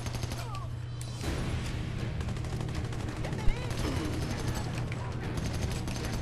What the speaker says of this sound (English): now this is a nice sounding gun